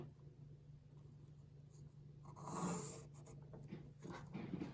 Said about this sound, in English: We're going to start by drawing a rectangle